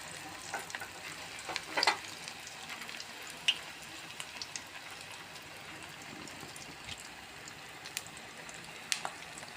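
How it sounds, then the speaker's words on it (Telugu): Bread pieces frying in hot oil for bread halwa give a steady, soft sizzle throughout, broken by a few brief scraping clicks from stirring, with no talking. "ఇలా మొత్తం కూడా ఫ్రై చేసుకోవాలి ఆయిల్లో"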